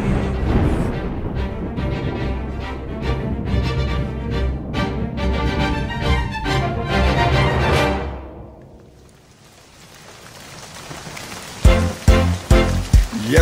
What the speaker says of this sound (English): When the rain finally came, we in the ark were kept dry and safe.